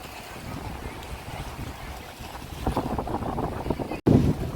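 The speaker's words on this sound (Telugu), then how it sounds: "నా మాటే వినిపిస్తుందో లేదో చాలా గాలి అంటే విపరీతం" Strong wind buffets the microphone at a scenic outdoor spot in India, a constant rough roar that grows gustier toward the end, with a sharp dropout followed by a loud blast.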